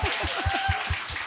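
Audience applause in a church hall: a short run of rhythmic, evenly spaced claps, moderately loud and steady, with faint background murmur.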